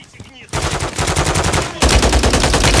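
Automatic weapons fire rattles in rapid, loud bursts during the Call of Duty: Modern Warfare 3 campaign, with a heavier burst in the second half.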